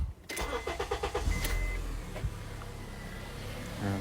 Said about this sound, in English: All right, so I'm gonna start the vehicle now.